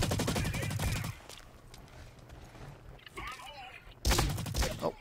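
Rapid automatic gunfire in the video game Blacklight: Retribution, loud bursts at the start and again near the end, with quieter game noise and a voice between.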